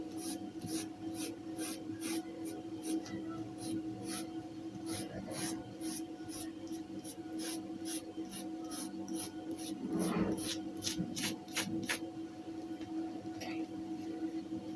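Chalk or a marker scrapes a line across fabric on a cutting surface for a fitted dress pattern, giving quiet, rhythmic rasping strokes that repeat in quick bursts.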